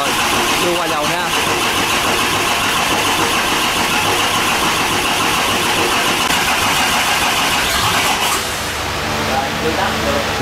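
A 180 HP engine idles steadily and loudly up close, a continuous mechanical drone with a slight shift near the end, while people talk over it.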